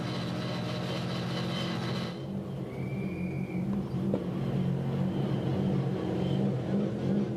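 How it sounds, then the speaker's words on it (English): A V8 SuperTourer race car pulls into the pit lane at Pukekohe, its engine a steady loud drone with a brief whine partway through, surrounded by continuous trackside noise and no talk. "Here's the Slade car in and Nick Percat."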